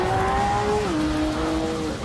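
A Porsche 911 sports car accelerates hard on a track, its engine note climbing steadily in pitch, then shifting down a step before rising again, loud and close under a voice.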